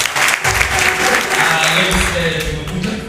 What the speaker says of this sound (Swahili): Tupigie makofi kidogo.